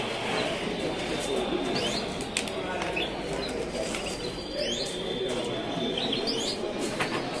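Yellow canaries at a judging show call and chirp in short bright notes over a steady room murmur, with cooing birds and faint voices in the background.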